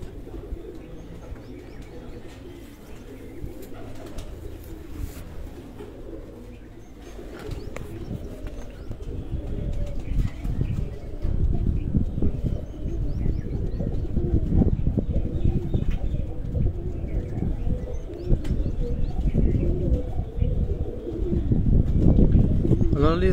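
Pigeons at a home pigeon keepers' show in Sargodha coo repeatedly amid rustling and flapping, the sound growing fuller and louder toward the end, with voices in the background.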